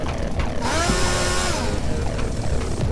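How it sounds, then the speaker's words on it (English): A video game chainsaw roars up to a loud, revving buzz that swells and then settles, running steadily amid background game noise without talk. "I got a chainsaw."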